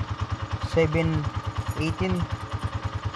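A motorcycle engine idling at home after a ride, a steady low pulsing putter close by, with someone talking over it briefly.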